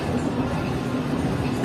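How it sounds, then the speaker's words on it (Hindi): A passenger train, the Mohenjo Daro Express, enters Larkana railway station in Sindh, Pakistan, giving a steady, fairly loud rolling rumble heard from on board, with no talk. "ट्रेन एंटर हो चुकी है लाड़काना शहर में और एंट्री कुछ इस तरह की है।"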